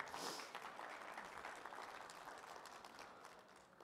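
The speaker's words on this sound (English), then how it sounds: "Give yourself a round of applause for getting here this morning." An audience at the Inspired Home Show claps through a round of applause, a dense, moderately distant patter of many hands that fades slightly toward the end.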